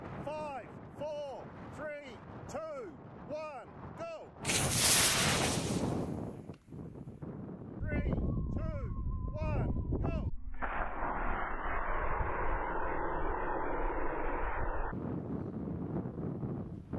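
A water rocket pressurized to 300 psi and loaded with Holi powder launches with a loud, sudden blast followed by a long rushing roar, with people talking before and after.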